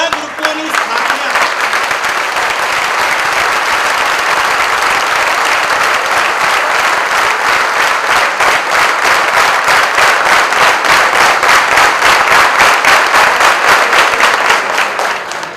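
An audience at a community gathering claps steadily and loudly throughout, the dense applause building slightly toward the end with no break.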